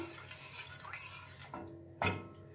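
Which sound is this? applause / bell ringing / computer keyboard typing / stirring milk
stirring milk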